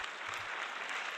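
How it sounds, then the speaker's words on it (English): Steady crowd applause from teachers and students in the video game Doki Doki Outcast, a dense continuous clatter of clapping throughout, fairly close and without pauses. "Yuri received a huge round of applause from the teachers, students, and us"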